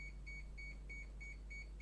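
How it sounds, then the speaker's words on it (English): Multimeter in continuity mode giving a steady run of short, evenly spaced high electronic beeps, about six across the stretch, over a low mains hum on a power supply check. "it's beeping"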